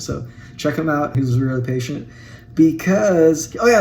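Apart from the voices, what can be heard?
No distinct noise like a dog, phone or traffic.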